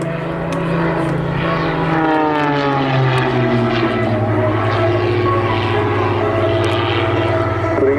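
CAP 232 aerobatic aircraft climbing hard at a seaside airshow, their engines a loud sustained drone whose pitch slowly falls as they pull up and away, with faint commentary underneath.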